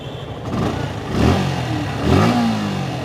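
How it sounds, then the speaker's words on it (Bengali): A Suzuki Gixxer motorcycle engine idles loudly up close, then revs up twice in smooth rising bursts before settling back; no voices. "ইঞ্জিনের সাউন্ড সুপার স্মুথ"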